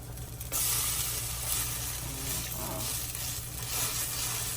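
Coconut mini pancakes browning in a hot pan give off a steady, loud sizzle that holds evenly from just after the start, with soft crackle and no voices.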